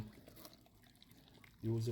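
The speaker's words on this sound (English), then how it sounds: "So now I have my pickling liquid here, and I just going to pour it over." Hot pickling liquid pours steadily over vegetables for homemade pickles, a soft wet trickle, then a voice starts talking over it near the end.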